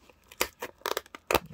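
Opening a 2011-12 Hoops basketball card blaster box, with three loud bursts of ripping cardboard and wrapper close to the mic, separated by short pauses.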